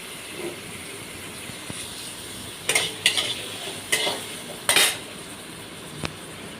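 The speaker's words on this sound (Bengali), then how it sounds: "পেঁয়াজগুলো ভালো করে একটু নাড়তে হবে, তার কারণ পেঁয়াজগুলো না নাড়লে ভালো করে ভাজা হবে না।" Onions fry in a pan while a utensil stirs them, giving a soft background sizzle broken by several sharp scraping clinks in the middle and a last light tap near the end.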